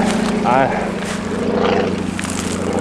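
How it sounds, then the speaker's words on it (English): A propeller plane drones overhead above an island shore, a steady engine hum running the whole way while someone talks over it. "these planes overhead fucking annoy the shit out of me"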